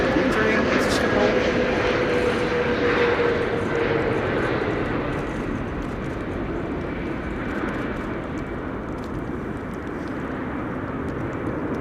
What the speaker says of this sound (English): A321neo from Copenhagen returning to Schiphol